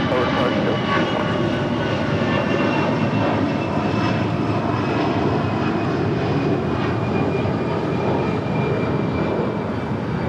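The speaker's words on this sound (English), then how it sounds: "This is the American 777-300ER about to touch down on 25 left, coming in from London." An American Airlines Boeing 777-300ER arriving from London and about to touch down on runway 25 left at LAX, its broad engine roar loud and sustained throughout, with faint talk underneath.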